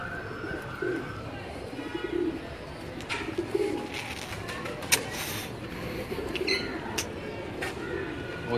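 Pigeons coo repeatedly at close range in a pigeon loft at a rural compound in Rawalpindi, alongside other bird calls and a low background rumble.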